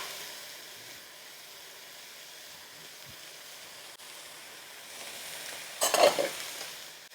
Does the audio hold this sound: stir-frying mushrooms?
yes